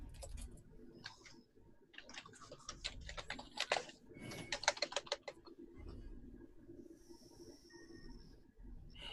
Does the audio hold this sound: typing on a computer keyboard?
yes